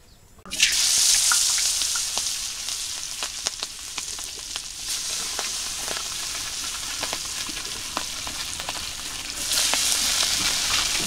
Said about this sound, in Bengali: মায়ের ওদিকে মাছ ভাজ দিয়েছে